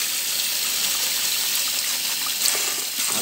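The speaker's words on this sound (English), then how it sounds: "Wash with the cold water." Cold tap water runs steadily over beans being washed in a sink, a continuous close hiss and trickle with no talk.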